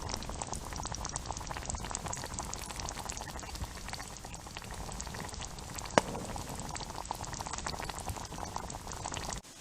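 Pasta sauce bubbles and sputters in a pan while being stirred, a continuous wet simmering crackle with one brief sharp knock near the middle and no talk.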